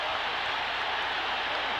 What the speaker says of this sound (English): A tremendous crowd of people are pushing their way in.